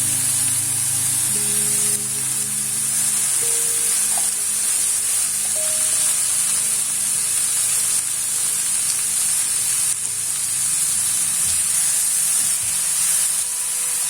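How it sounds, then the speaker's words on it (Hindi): Shredded chicken frying with cabbage in a pan, a steady loud sizzle and hiss with occasional stirring scrapes, continuous throughout without talk. "अब हम इसमें ये श्रेडेड किया हुआ चिकन डाल देते हैं।"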